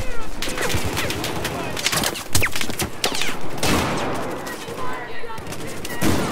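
Rapid automatic gunfire from Battlefield 4 close-quarters combat on Operation Metro, dense overlapping bursts and single cracks filling the whole stretch, loud and near, with no talk over it.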